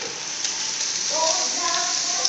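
Butter melts in a hot frying pan while eggs are being cooked, giving off a steady, soft sizzling hiss throughout, with a faint voice in the background.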